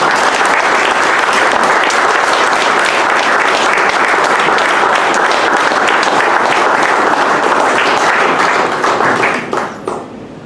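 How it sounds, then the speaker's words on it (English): A seated audience gives a loud, sustained round of applause to welcome author David Maraniss at a roundtable presentation, dense clapping close by that holds for about nine seconds before thinning and fading out. "let's give a big round of applause and a warm welcome to David Maraniss"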